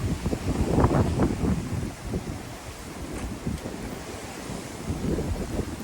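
Wind blows across a misty hilltop viewpoint, buffeting the microphone in strong low rumbling gusts that rise and ease, loudest near the start, with no voices.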